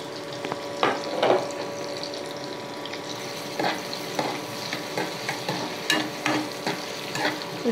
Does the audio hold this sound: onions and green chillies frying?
yes